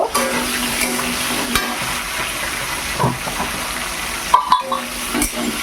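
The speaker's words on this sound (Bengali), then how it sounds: "চলো এই দুটোকে আবার একটুখানি ফ্রাই করে নেব।" Beans and capsicum fry in a pan for a vegetable chicken dish, a steady close sizzle with occasional clinks of a utensil stirring against the pan, under a speaking voice.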